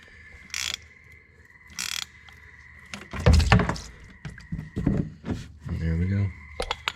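Ratchet with an extension loosening a car's oil drain plug on a Chevy Trailblazer, a few short clicking bursts and metallic clanks close up, with someone talking between them.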